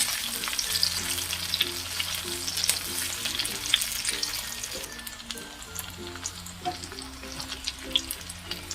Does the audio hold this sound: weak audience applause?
no